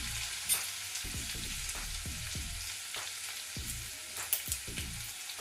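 Ginger garlic paste fries in a hot pan while cooking jeera rice and rajma curry, with a steady close sizzle and repeated scraping stir strokes across the pan, no voices.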